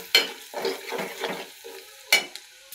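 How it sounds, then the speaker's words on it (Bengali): Salt, turmeric and chili powder frying in a pan while being stirred, several scraping strokes of a spoon over a soft sizzle, close and fairly loud, with no voices. "এখন এগুলোকে ভালো করে মিক্স করে নেব"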